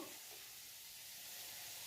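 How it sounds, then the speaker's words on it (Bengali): Diced potatoes fry in hot oil in a pan, a quiet, steady sizzling hiss that holds evenly throughout with no voices. "এই যে আলু ভাজা হচ্ছে"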